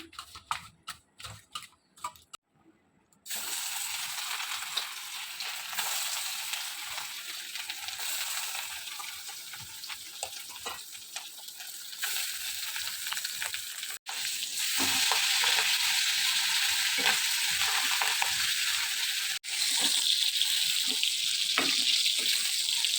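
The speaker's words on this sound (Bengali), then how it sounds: "মাছটা ভাজা আমার হয়ে গেছে" Rohu fish roe, rubbed with salt and turmeric, fries in hot oil in a kadai. A few clatters open into a loud, continuous sizzle that grows stronger toward the end.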